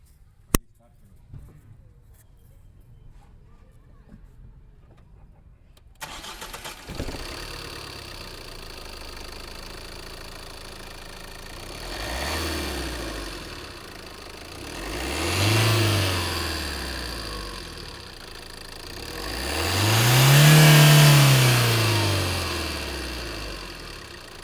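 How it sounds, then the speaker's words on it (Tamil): A Tata Nexon with 200,000 km on it starts after a few quiet seconds, then idles and revs three times, each rev swelling higher and louder than the last, heard close up. "நான் உங்களுக்கு இன்ஜின் நாய்ஸ் இப்போது நான் காமிக்கிறேன் இருங்க"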